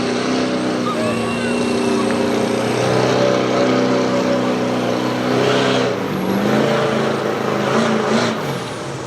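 A street diesel 4x4 truck at a Berryville drag event accelerates with a loud, close engine roar that climbs in pitch and holds before easing off, while an announcer talks over it.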